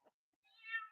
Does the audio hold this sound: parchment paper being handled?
no